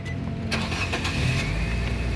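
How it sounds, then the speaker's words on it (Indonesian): A 2012 Nissan Grand Livina 1.5 XV automatic cranks and fires up: a brief starter whir, then the engine catches with a broadband burst and settles into a steady, close idle with no talking. "Oke, sekarang kita coba start mobil."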